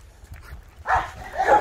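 A male dog barks twice, close and fairly loud, with a quiet stretch of low rumbling before the first bark and no talk over it.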